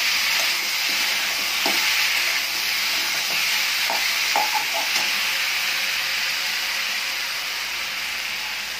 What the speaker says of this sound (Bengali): আমি হালকা করে নেড়ে নিচ্ছি যাতে আদা কাঁচা গন্ধটা চলে যায়